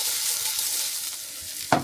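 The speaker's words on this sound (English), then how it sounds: "So I got asparagus slow cooking right here." Asparagus slow-cooks in a hot pan with a constant, even sizzle and crackle, topped by a brief sharp clatter of utensil on pan near the end.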